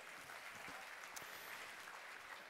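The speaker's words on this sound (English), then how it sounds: "our Davis Cup captain, give him a round of applause, Pat Rafter" Applause from an audience at an awards night for Australian tennis, quiet and distant, a steady soft wash of clapping with no talk over it.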